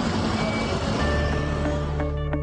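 Dense rush-hour traffic on Victoria Island, Lagos, makes a continuous loud roar of engines, with truck rumble and intermittent beeping tones running through it.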